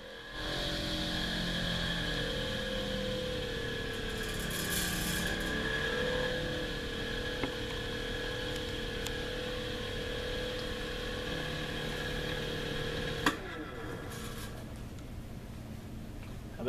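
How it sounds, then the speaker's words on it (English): The blade motor of a Husqvarna Automower robotic lawn mower spins in reverse during a diagnostic test, giving a steady close mechanical whir with a faint rasping edge, broken by one sharp click near the end. "we can actually spin the blade motor backwards or in the opposite direction of what we were spinning."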